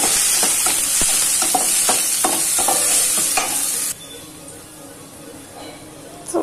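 Spice tempering sizzling in a pan at home while a spoon stirs it, loud close frying hiss with scraping taps that stops suddenly, leaving quieter room sound beneath someone talking.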